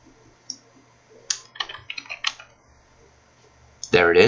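Computer mouse clicks while building a home in a Skyrim mod editor: a few sharp, close clicks in quick succession, separated by short pauses, with a voice starting up at the end.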